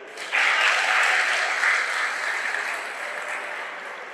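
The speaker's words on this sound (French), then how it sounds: "si c'est bien, applaudissez" Audience at a New Year's wishes ceremony bursts into applause, a loud, dense wash of clapping that starts abruptly and holds steady before easing slightly, with no talk over it.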